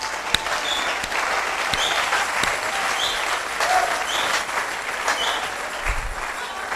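A church congregation applauds loudly and steadily throughout, a dense, continuous clapping that fills the room.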